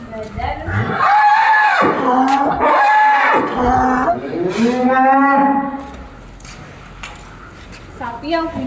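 Cattle mooing in a farm pen, several long drawn-out moos in a row, loud and close, with a speaking voice heard around them.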